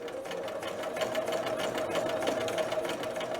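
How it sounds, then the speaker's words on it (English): A sewing machine stitches a dress collar with a steady, close, rapid mechanical whirr and chatter, running evenly throughout with no speech. "And just stitching."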